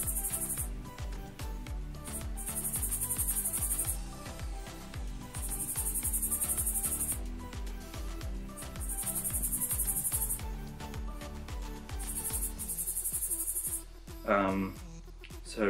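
A dragon headed katydid calls in loud, buzzing bursts of a few seconds each, separated by short pauses, close up, with faint clicks and rustling underneath and brief noise near the end.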